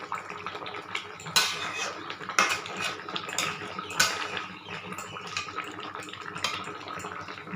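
A cooking pot of moong dal and potato curry with egg fritters being covered, with metallic clinks and clatters of pot and lid standing out over a steady background of kitchen noise.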